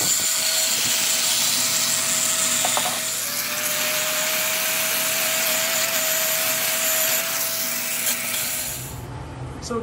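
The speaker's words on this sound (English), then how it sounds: "we are using a knotted wheel on a variable speed angle grinder" Knotted wire cup brush spinning on a variable speed angle grinder against the steel of a Hay Budden blacksmith anvil during restoration, a loud continuous whirring scrub that holds steady nearly throughout before winding down at the end.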